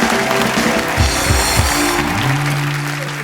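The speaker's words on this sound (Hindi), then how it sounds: "जोरदार तालियां जैकी और टाइगर के लिए।" Studio audience applauding for actors Jackie and Tiger on a Hindi comedy talk show set, a steady dense wash of clapping mixed with music and a few low rising tones, loud throughout.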